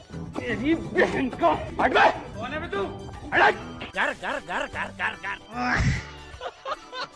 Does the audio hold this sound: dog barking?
yes